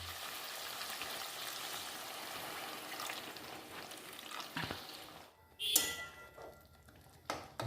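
Chicken hariyali sizzling and frying in a pan after water is added, a steady close hiss and bubbling that dips briefly and then surges with sharper spitting and a stir.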